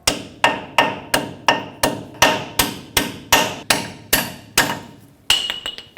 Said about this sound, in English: we can take this sleeve and hammer it up